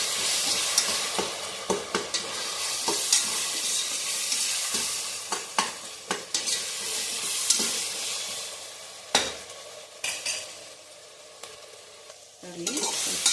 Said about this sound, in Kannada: ನಾನು ಪೇಸ್ಟ್ ಇಟ್ಟು ಪೇಸ್ಟ್ ಹಾಕ್ತಾಯಿದ್ದೀನಿ. ಒಂದು 2 ನಿಮಿಷ ಫ್ರೈ ಆಗಬೇಕು.